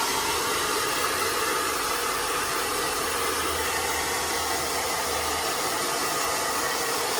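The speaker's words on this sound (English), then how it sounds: "She likes the hairdryer" Constant loud blowing from a hair dryer drying a Cockapoo during home grooming, a broad airy roar with a faint motor drone beneath, unbroken from start to finish.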